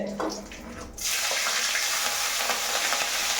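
Chillies drop into hot oil in a pan for avalakki, and after a quieter moment a loud, steady sizzle starts and keeps going close up.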